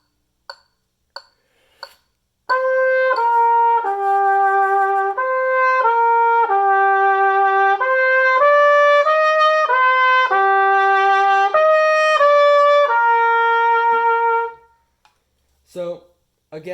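A lone trumpet plays the second trumpet part of a band piece, a sustained legato melody of about a dozen held notes at steady moderate volume, framed by a few soft clicks before and after.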